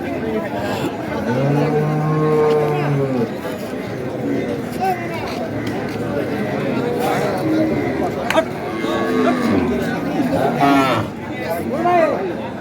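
Cows, including Sahiwal, Sindhi and local dairy breeds with calves, moo loudly in long, drawn-out calls amid a busy crowd of people chattering at the Ambari livestock market.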